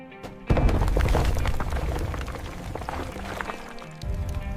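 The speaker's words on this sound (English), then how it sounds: "That's the sound of a house falling into a mine shaft." A house collapsing into a mine shaft: a sudden heavy rumbling crash bursts in after a brief pause, followed by a long roaring cascade of debris that fades slightly before another surge.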